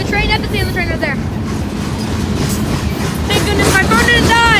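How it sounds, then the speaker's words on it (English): A passing freight train's final cars roll by with steady, loud rail rumble and clatter, and high squealing tones rise and fall near the start and end. "That's the end of the train right there."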